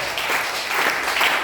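A church congregation claps together continuously, a dense wash of hand claps with a loose rhythmic swell, no voices standing out.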